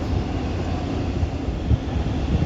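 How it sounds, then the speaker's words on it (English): A train rumbles past at a distance in Little Falls, a steady broad roar with low thumps of wheels on the track. "The ubiquitous train."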